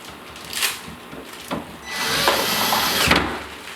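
A power drill drives screws into a kitchen cabinet during installation, with short whirring bursts and a longer sustained run of the motor, plus wooden knocks and rubbing between, close and clear with no talk.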